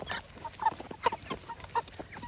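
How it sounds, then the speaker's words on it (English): Meat chickens, including a big rooster, cluck in short, rapid bursts close by, several birds overlapping in a busy, chattering rhythm. "Look at that big rooster there."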